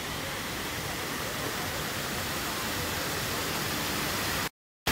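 A waterfall in Singapore gives off a steady, dense broadband roar of falling water that stays constant and fairly close. The sound stops abruptly near the end.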